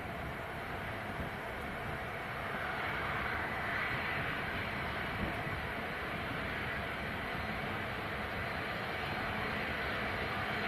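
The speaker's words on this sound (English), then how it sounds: "So this Jet 2 that's taxiing out now, this is going out to Fuerteventura down in the Canaries." A Jet2 airliner taxis out for departure at Leeds Bradford Airport, a steady distant jet engine roar and whine that holds evenly throughout.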